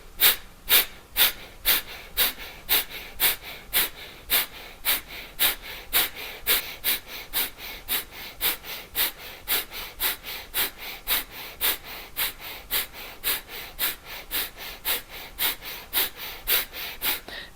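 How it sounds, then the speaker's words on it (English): Forceful rhythmic exhales in a pranayama breathing exercise come as sharp nasal puffs about two per second, steady and close, over a quiet background. "So inhale, and then strong exhale."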